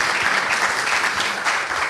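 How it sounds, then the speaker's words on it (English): An audience applauds at a climate change and women event in Accra, steady dense clapping throughout, fairly loud and even, no talking. "Please, a round of applause for her"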